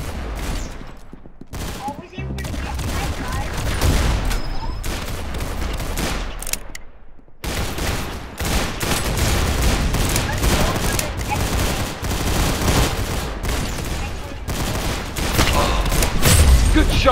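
Gunfire in the Arsenal video game: dense, rapid bursts of shots keep going almost without a break, loud and close, with a short quiet gap partway through.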